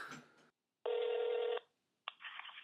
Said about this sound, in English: I'm ringing Alex back in.